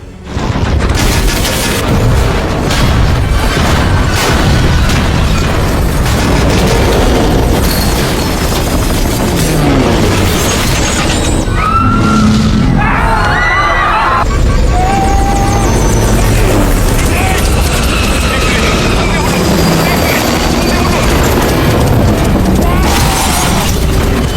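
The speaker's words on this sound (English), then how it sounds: "watching helplessly as the helicopter crashes into the glass curtain wall of the building" A loud, continuous helicopter roar with heavy booming impacts and crashing, shattering debris as the helicopter crashes into a skyscraper's glass curtain wall, dense and overwhelming.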